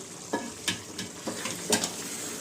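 Tomatoes frying in a pan for a Hyderabadi chicken aloo pulao, heard as a steady sizzle with several louder stirring scrapes spaced through it.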